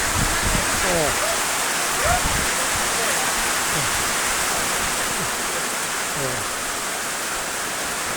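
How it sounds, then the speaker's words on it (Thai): Heavy rain pours down in a steady, dense roar, with a voice speaking briefly over it near the start and again later. "โอ้เบิ่งว่าฝนตกอ่ะ โอ้ขาว ตกแรงพ่อพี่น้องเอ้ย"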